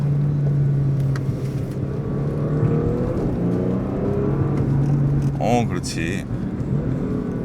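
A Porsche Panamera 4 E-Hybrid accelerates without shifting gears, heard from inside the cabin as a steady hum and road noise that rises gently, with a person speaking briefly near the end.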